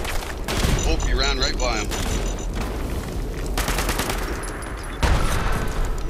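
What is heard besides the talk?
gunfire at a rock in a video game (Fallout)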